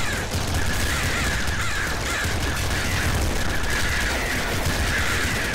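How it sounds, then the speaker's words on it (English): Crows caw repeatedly in the video game Nuclear Throne, a harsh cawing chorus over constant gunfire-like game noise and a dense electronic soundtrack. "All I hear is the sound of birds."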